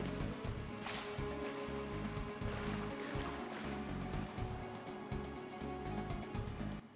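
A waterfall in the Kingdom Hearts video game pours with a steady, dense rushing wash that holds at even loudness throughout, alone without talk.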